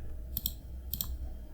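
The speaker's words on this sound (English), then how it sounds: "Just hold Alt on your keyboard and click." A computer mouse gives a few sharp, quiet clicks, two close pairs and then a fainter single click, over a low background hum.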